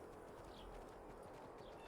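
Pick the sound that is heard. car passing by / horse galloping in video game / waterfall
horse galloping in video game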